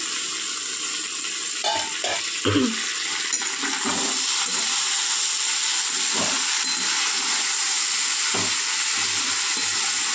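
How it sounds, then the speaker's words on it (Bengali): Mixed vegetables fry in a pan with a constant, close hissing sizzle, broken by several scraping knocks of a spatula as they are stirred. "তো চলুন আবারও ভাজা হতে দিই।"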